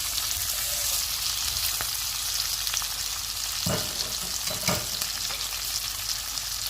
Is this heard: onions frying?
yes